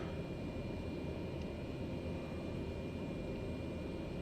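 Aircraft takeoff in a flight simulator set in Hawaii, a steady loud broadband engine and propeller roar that holds constant throughout without talk.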